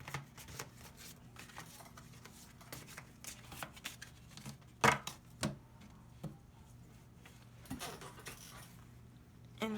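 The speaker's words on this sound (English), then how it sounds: "Let me just shuffle up these cards" A deck of tarot cards is shuffled by hand, giving soft riffling and patter in irregular bursts with a few sharper snaps. The sound is close and fairly quiet over a low steady room hum.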